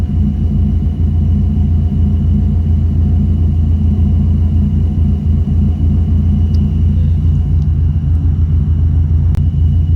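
A car engine runs steadily during a tuning session, giving a loud, continuous low rumble with a faint steady whine above it for the whole stretch, with no talk.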